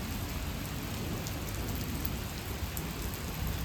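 Light rain falling in a village, a steady soft hiss of drops on surfaces throughout, even and unbroken with no voices.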